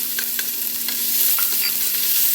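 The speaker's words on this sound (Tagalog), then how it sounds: "Nilagyan natin ng mantika. Ready na tayo maggisa. Ito yung bawang." Garlic sautéing in cooking oil for palabok, a steady bright sizzle with a few soft pops across a short stretch, no voices.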